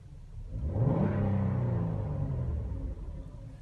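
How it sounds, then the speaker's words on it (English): A 2016 Ford Explorer engine revs up from idle into a loud, sustained mid-low roar that holds steady before easing slightly, heard up close with no talking. "let's listen to this thing purr."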